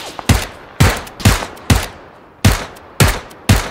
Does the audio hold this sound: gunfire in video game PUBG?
yes